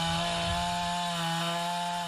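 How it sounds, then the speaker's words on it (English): Chainsaws buzz steadily during outdoor tornado cleanup, a continuous droning engine whine with strong harmonic overtones holding at even loudness throughout. "The buzzing of chainsaws echoing throughout on Alaska"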